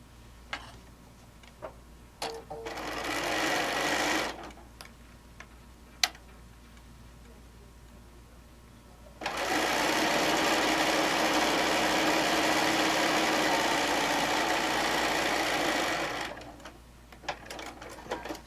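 A sewing machine stitches a quilt seam on layer cake fabric in two steady whirring runs, a short one and then a longer sustained burst, close by with small clicks and handling noises between.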